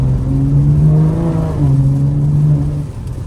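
BMW M340i on drag radial tires accelerating hard, a loud, close engine drone rising in pitch, dipping briefly at a shift, then climbing again.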